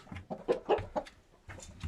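An ornamental rooster clucks in a run of short, close, fairly loud calls, with a brief pause before a final few clucks.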